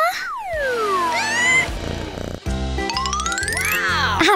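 Cartoonish cat meows with sliding, whining pitches, mixed with jingly chimes and bouncy boing effects over a rhythmic backing, fairly loud and close.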